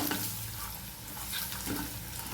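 Spices such as chilli powder and turmeric are stirred into a recipe mixture. The result is a soft, continuous scraping and sizzling rustle at low volume, steady for a couple of seconds with no speech.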